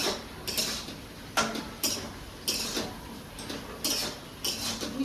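Vegetables and greens being stirred in a cooking pan, a utensil scraping and knocking against the metal in a series of sharp clanks and taps spaced irregularly, close up with no talking.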